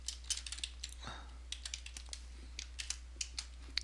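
Soft, close keyboard clicks patter irregularly as text is typed on a computer, light keystrokes scattered over a low steady hum.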